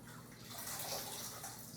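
Water splashes and trickles as ora leaves are lifted out of hot cooking water for Igbo ora soup, a continuous close, soft pouring and dripping sound lasting under two seconds without talk.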